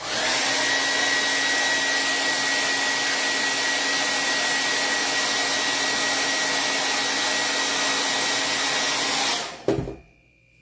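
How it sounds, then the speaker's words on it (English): Hair blow dryer blasting a steady, loud, breathy whoosh with a faint whine for about nine seconds while drying chalk-painted craft beads, then switched off and winding down into near silence. "Blow dryer."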